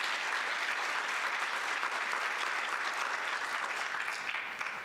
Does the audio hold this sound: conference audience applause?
yes